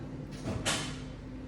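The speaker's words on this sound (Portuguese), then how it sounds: "Fecho a minha gaveta." Drawer holding the film cassette sliding shut on an X-ray table during pelvis and hip radiographic positioning, one smooth close slide ending in a soft thud, alone in a quiet room.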